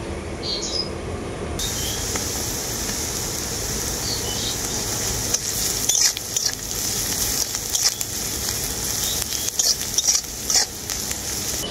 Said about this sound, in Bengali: আদাটা খুব ভালো করে ভাজা হয়ে গেছে।